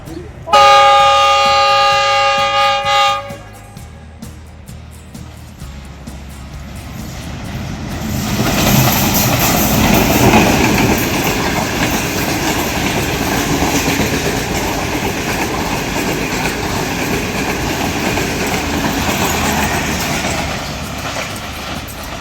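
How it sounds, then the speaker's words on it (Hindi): Train arriving at Nine Arches Bridge, opening with a loud horn blast, then a rising rumble and clatter of wagons rolling close by that holds steady, with people talking over it. "अच्छा, अब आने वाली है ट्रेन, आ गई है।"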